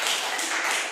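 Brief burst of applause from the audience at a town council meeting, a dense patter of clapping lasting about a second with no talk over it.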